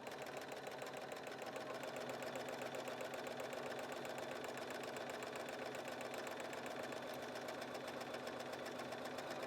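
A Bernina sewing machine stitching fabric strips through a bias binder attachment, a fast, even mechanical whirr with steady needle rhythm, running continuously and fairly faint without any talk.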